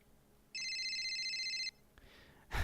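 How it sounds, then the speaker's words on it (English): A cell phone ringing in the Steins;Gate visual novel: a bright electronic ringtone sounds once for about a second, clear and close, followed by brief faint clicks. "A second later, Mayuri's phone starts ringing."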